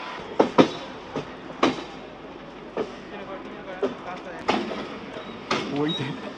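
A local passenger train at Rajchandrapur station on the Sealdah suburban line, with sharp clanks and door or coupling thumps spaced irregularly over a steady mechanical rumble, and people talking nearby.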